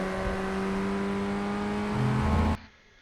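A Ray FF1600 Formula Ford race car on the VIR circuit in iRacing holds a loud, steady engine drone that rises in pitch as it accelerates, then drops away abruptly.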